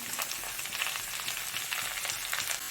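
Tomato and green chilli frying in a pan, giving a steady close sizzle and crackle throughout with no voices.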